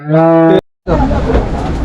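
A cow that has recently calved gives one loud, close moo with a drawn-out tone, followed by a brief silence and then noisy outdoor background.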